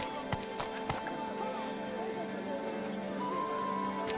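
Roach the horse galloping in The Witcher, rhythmic hoof clip-clops under game ambience, with a short whinny and faint voices in the background.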